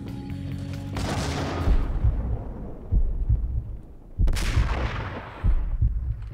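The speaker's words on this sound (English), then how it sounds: "what I'm gonna do is snipe him from across the hole" Sniper rifle shots in Max Payne: a few heavy, booming reports spaced seconds apart, each with a sharp attack and long echoing decay, over a low ambient game hum.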